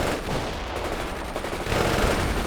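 Dense, continuous machine gun fire in the World in Conflict game, with a Soviet assault underway, rattles loud and close as an unbroken fusillade with no pauses.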